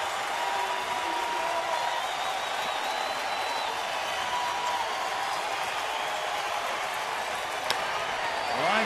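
Spectators at a Mets-Astros ballgame in Houston give off a sustained, even wall of cheering and clapping. A faint sharp knock is heard near the end.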